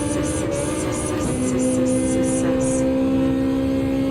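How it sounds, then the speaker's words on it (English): A car engine in the racing video game Gran Turismo 7 drones loudly and steadily with a sustained tonal hum, while a rapid pulsing high whine repeats over the first part. "the car engine sounds like a music hall orchestra"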